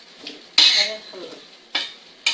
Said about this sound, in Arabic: غادي نخلط